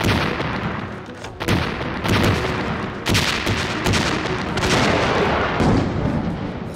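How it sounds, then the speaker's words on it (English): Dense, continuous booming and cracking of a battlefield as tanks are hit during fighting in Normandy, with heavy blasts and gunfire overlapping loudly throughout. "More tanks are torn to pieces with loud explosions."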